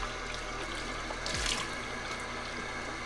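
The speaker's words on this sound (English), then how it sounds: "So I'm just gonna wash this off." Water running from a sink tap while a face is washed clean of makeup, a steady close splashing rush with a brief louder spatter midway and no talking.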